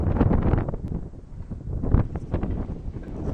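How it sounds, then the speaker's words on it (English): Gusty wind buffets the microphone on Hong Kong's foggy Peak during a hike, a loud, rumbling roar that swells and eases in uneven waves with no voices. "the wind just blew all the clouds away"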